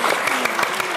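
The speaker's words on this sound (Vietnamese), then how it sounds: "Vỗ tay" Studio audience applause on a TV show, a dense, loud burst of clapping from many hands, close and continuous for a moment.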